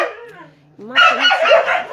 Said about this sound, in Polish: tutaj jest piesek roczny